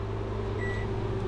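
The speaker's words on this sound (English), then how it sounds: "Microwave's running" Microwave oven running off a DIY off-grid battery setup, a steady low hum with a continuous drone and a brief faint tonal whine partway through, no talking.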